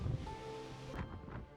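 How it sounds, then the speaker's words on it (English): Strong wind gusting atop Sigiriya Lion Rock in Sri Lanka, buffeting the microphone with low rumbling and broadband rushing, plus a faint steady tone in the background. "It's super windy right here."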